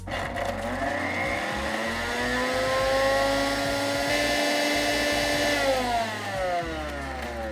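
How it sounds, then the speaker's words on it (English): A small stainless steel electric spice grinder whirs continuously at close range, its motor pitch rising and then holding steady before slowing near the end. "This is a stainless steel mechanical spice or electrical spice grinder."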